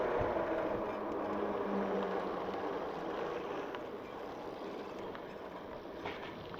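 Two RC boats, a Wired Cruiser and a Furious EMX, racing at full throttle on water, heard as a steady, fairly faint motor whine mixed with wind and water noise, held at a distance throughout.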